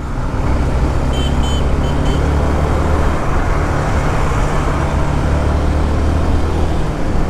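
A Suzuki Intruder BS6 motorcycle hums steadily while being ridden, with a continuous engine drone mixed into wind rush and road noise, no voices.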